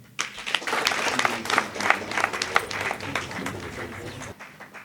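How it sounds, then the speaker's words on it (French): At a political rally, a crowd claps steadily for several seconds, dense and fairly loud, then the applause cuts off near the end. "On applaudit."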